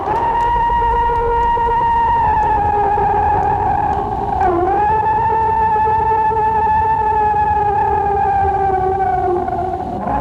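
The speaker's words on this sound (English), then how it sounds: "The sound you hear is what some experts claim to be a Bigfoot scream." A purported Bigfoot scream: a long, loud, sustained wavering cry with strong harmonics that dips briefly in the middle, then continues alone for about ten seconds.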